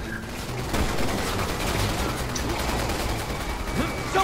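Dense, continuous gunfire rattles from enemy hand cannons in the video game Resident Evil 6, a busy wash of rapid shots with no clear gaps and no talk over it.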